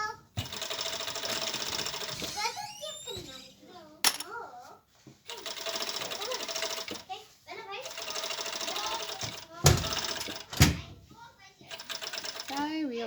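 A serger overlock sewing machine stitches a cloth pad in repeated fast whirring bursts with short pauses, and a voice speaks in the gaps between runs.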